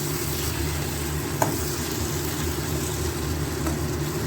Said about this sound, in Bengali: এবার এটাকে পুরো ভাজা ভাজা করব।